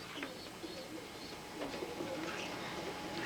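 Pigeons coo softly and flutter at a racing-pigeon convention loft, low murmuring calls repeating over steady outdoor background noise with faint voices.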